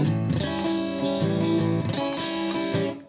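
Steady guitar strumming rhythm with a plectrum raked across the strings, repeated chords played close and fairly loud with no talking.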